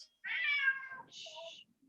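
A cat near a restorative yoga session gives a single drawn-out meow and then a shorter, softer follow-up call, close and clear in a quiet room.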